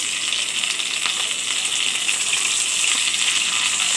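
Tilapia fish fry in hot oil in a pan, a loud, continuous crackling sizzle that holds steady throughout with no talk.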